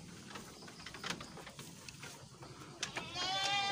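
Small goat kid bleating on a farm, with a faint bleat early on and then a loud, close, wavering bleat near the end over a background of rustling and shuffling.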